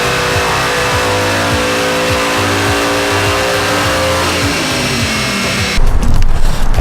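A Ford Mustang Boss 302 fitted with a track key revs hard and steadily at close range, its engine note climbing and falling in pitch, then cuts to a louder, rougher burst near the end; no one speaks.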